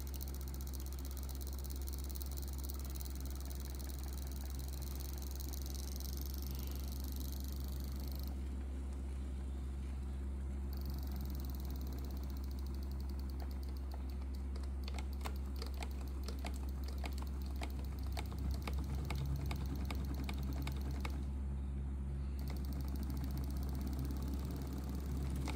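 A homemade pulse motor runs steadily with a constant low hum, its coil firing in a fast rhythmic ticking that rises into dense clicking bursts midway, with no talking.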